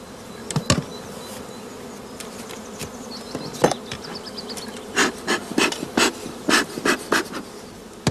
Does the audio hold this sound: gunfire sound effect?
no